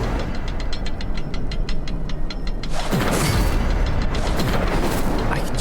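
Incendio fire spell cast in Hogwarts Legacy: a loud surging whoosh of flame breaks in midway over a rapid, steady ticking rhythm, then roars on at full strength.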